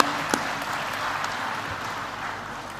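An audience at a diaspora youth conference claps, a moderate, fairly even patter of hands with a few sharper individual claps standing out.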